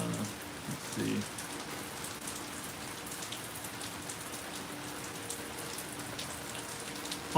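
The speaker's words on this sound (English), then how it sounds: "storm gets us some good rain, and we're already getting some." Steady rain falling during a thunderstorm, a dense, even patter of drops hitting the ground and nearby surfaces, continuous and moderately quiet throughout with no voices.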